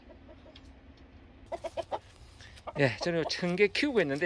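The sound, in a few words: chickens clucking in a coop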